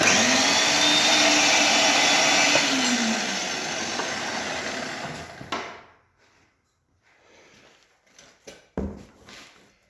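Korean Sub 25s rebar bending machine folds a 570 mm reinforcing rod in half, giving a loud steady motor whine with a rising and falling tone that winds down after about five seconds, followed by sharp metallic clunks and knocks.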